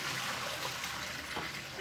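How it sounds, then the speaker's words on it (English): Dirty rinse water draining out of washed meat during dinner prep, a steady rushing, splashing pour that runs continuously and fairly loud, with no talk over it. "Drain the dirty water."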